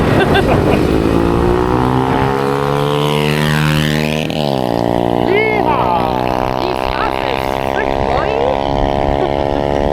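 A rented scooter rides along a rural island road in the Camotes Islands, Philippines. Its engine drones loud and close throughout, the pitch rising and falling as it changes speed, with a brief dip near the middle.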